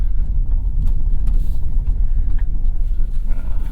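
A 2025 Hyundai Ioniq 5 accelerates hard out of a corner on a track loop, giving a steady, loud low rumble of road and drivetrain noise with no speech.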